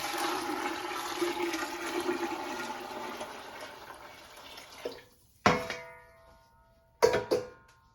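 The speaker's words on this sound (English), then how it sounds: "cover them with about 2 quarts of water" Water pouring from a tap into a large cooking pot of dried beans, a steady splashing rush for about five seconds, then two short bursts of pouring, close and clear with no talk.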